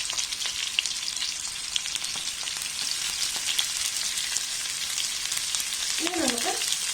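Sliced onion and capsicum frying in a pan, a continuous close sizzle with light crackle throughout and a brief voice-like sound near the end.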